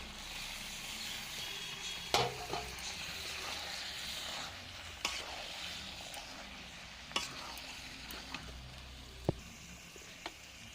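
Goat meat frying in spiced oil in a pan, a steady soft sizzle broken by occasional sharp clicks and scrapes of stirring, quiet and close with no talking.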